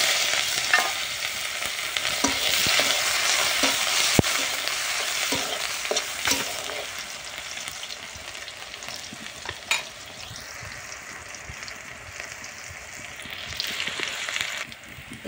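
Crushed garlic and green chili sizzle loudly in hot oil alongside fish, a dense steady hiss of frying with scraping stirs throughout, easing slightly toward the end.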